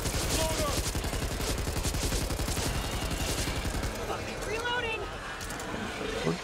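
Rapid gunfire in the zombie shooter Back 4 Blood, a fast, close rattle of repeated shots for about four seconds before thinning into scattered game sounds and quieter effects.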